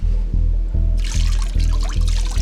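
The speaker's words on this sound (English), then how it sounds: "The water's beating right off of the high tops." Water pours onto waterproof Vessi high-top shoes and splashes off them. A low, regular pulsing hum runs underneath throughout, and a bright, spattering splash joins it partway through and keeps going.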